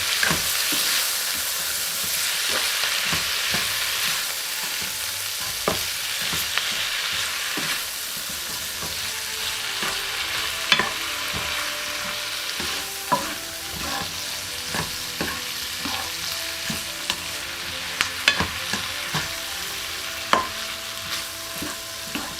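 Beef tongue and large spring onions frying in a pan, a steady loud sizzle with intermittent clinks and scrapes of stirring throughout, no voices.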